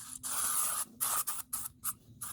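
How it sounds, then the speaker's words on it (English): A bug spray can hisses in one long burst at a dispersed campsite in Michigan, followed by several short, sharp puffs of aerosol separated by brief pauses. "Bug spray. Bug spray is important."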